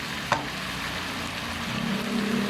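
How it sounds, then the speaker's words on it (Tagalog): Ingredients for miso sinigang sauté in a hot pan with a steady close sizzle and a crackling fry, a brief clink early on, and the hiss swelling slightly toward the end. "Yung iba kasing nagsisigang, hindi na nila ginigisa ng ganyan."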